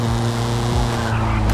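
A damaged BMW E30 engine in Forza Horizon 5 runs with a loud, close, droning tone that briefly stumbles and dips partway through, like a stalling splutter, then steadies again.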